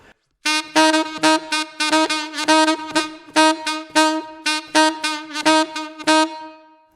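A saxophone plays a quick overtone line of short, detached notes, one pitch repeated between moving tones in a steady, lively rhythm, close and alone.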